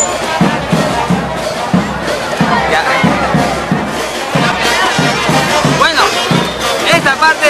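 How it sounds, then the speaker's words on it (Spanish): Crowd at a traditional-day celebration clapping in rhythmic, steady beats, loud and close, with shouting voices and someone talking over the applause. "Fuertes las palmas"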